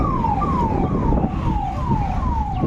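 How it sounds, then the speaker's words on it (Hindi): Ambulance siren on a street in Patna, a repeating falling wail cycling about every half second, loud and continuous over steady traffic and street noise, with no talk. "इधर एम्बुलेंस देखिए"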